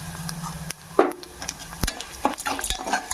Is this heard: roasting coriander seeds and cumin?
yes